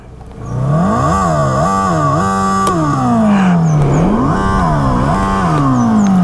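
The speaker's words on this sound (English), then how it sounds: "that is a fake exhaust note which you don't get on any other bikes" A Komaki electric cruiser motorcycle plays a synthetic exhaust note through its speaker, rising and falling in repeated rev sweeps, loud and close, with no engine mechanical noise and no talk.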